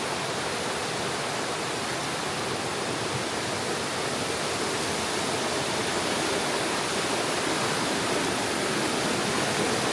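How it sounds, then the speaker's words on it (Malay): A river rushes right in front of a campsite in Perak, a steady broadband roar of flowing water, loud and constant throughout with no voices over it. "sungai betul-betul depan tapak"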